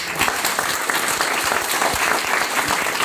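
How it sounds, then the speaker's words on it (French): Audience members applaud at the close of a French conference talk, with continuous, fairly loud, close clapping throughout the short stretch. "Je crois qu'on peut les applaudir."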